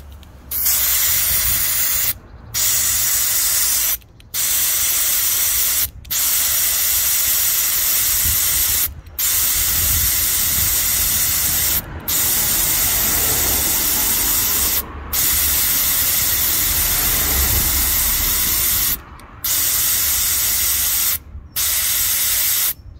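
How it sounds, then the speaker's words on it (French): Car tyre being pumped back up to pressure after a plug-kit puncture repair: loud, close bursts of hissing air, repeatedly cut by short pauses. "Alors on va remettre la pression idéale à son pneu."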